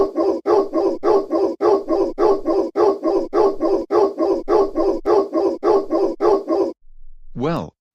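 Cartoon puppies bark in a fast, regular string of yaps in a song-like rhythm, then a single rising whimper after a short pause, loud and close.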